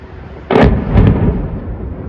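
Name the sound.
explosions from military strikes in footage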